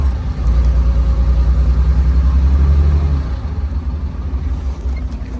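Car engine firing up and settling into a steady, deep idle close by, the low rumble holding level for about three seconds before easing off.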